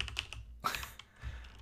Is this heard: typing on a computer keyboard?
yes